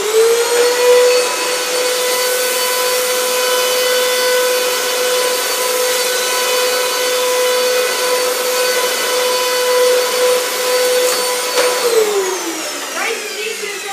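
A Eureka vacuum cleaner runs loud and steady with a strong motor whine, close by, then winds down near the end.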